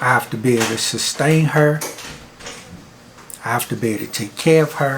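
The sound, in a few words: dishes clattering as someone arrives with groceries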